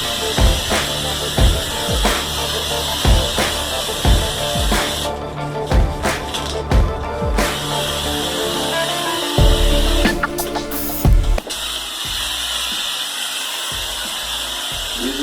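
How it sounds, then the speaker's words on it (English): A texture sprayer coats a bathroom ceiling during a remodel, giving a steady, loud airy hiss that runs nearly the whole time, broken by soft knocks and clunks and a brief change in tone near the end. "we're going to come in here and start spraying"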